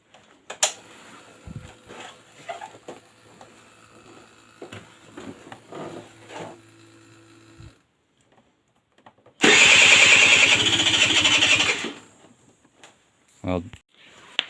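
Aprilia Scarabeo Ditech scooter engine, converted from air to water cooling, fired up on a stand with the rear wheel free: a loud, dense burst of running lasting a couple of seconds, then a short second spurt, after quieter workshop clatter.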